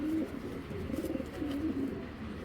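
A white racing pigeon coos in low, throaty rolling phrases, close and clear, repeating several times over a quiet background.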